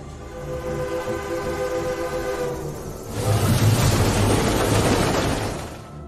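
A train's horn sounds in a long sustained blast, then gives way to loud rumbling and clatter of the train rolling past close by.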